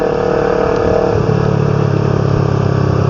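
A motorcycle engine runs just ahead while a vehicle follows closely behind it on a road in light drizzle; a loud, steady mechanical drone with a low rumble fills the whole stretch, with no talking.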